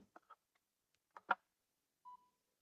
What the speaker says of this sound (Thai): เชื่อมยังไม่ได้เชื่อมต่อ หรือยังไม่ได้เซตค่านะก็จะมีเสียงร้องอย่างนี้นะตึ๊ดตึ๊ดนะครับ